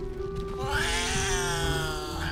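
A cat meows in the Baldur's Gate 3 video game, one drawn-out, rising and falling cry lasting a couple of seconds, close and clear over a low steady game ambience, with no talking.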